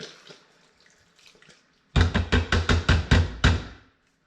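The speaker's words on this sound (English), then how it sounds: "I got a can of coconut milk going in the whole way" Canned coconut milk glugging out of the can into an Instant Pot, a run of about eight rapid, thick gulping pours after a few faint knocks and quiet handling sounds.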